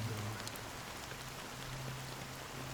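Steady rain falls continuously, a dense even hiss of drops on surfaces with a faint low hum underneath, moderately quiet and unbroken throughout.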